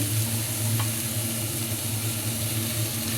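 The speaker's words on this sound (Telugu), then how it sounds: "క్యాబేజీ క్యారెట్ ఇవన్నీ వేసుకుని వేయించుకోవాలండి" Onions, beans, capsicum, cabbage and carrot fry in a pan with a steady, continuous sizzle and occasional stirring, close and fairly quiet, with no talk.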